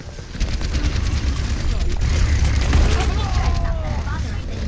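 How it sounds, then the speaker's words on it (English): Enemy turret firing in the video game Overwatch, a sustained rapid gunfire barrage with booming impacts mixed into continuous battle noise, loud throughout, while players talk over it. "Enemy turret ahead."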